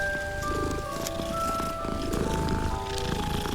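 A steady low cat purr rumbles continuously in the game Hogwarts Legacy, layered with sustained synthetic tones and a busy electronic backdrop, close and moderately loud.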